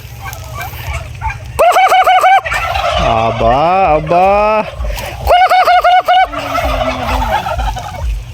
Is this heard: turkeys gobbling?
yes